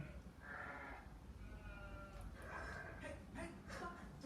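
Sheep bleating, several faint, wavering bleats spread across a few seconds over a soft noisy background, somewhat distant and quiet.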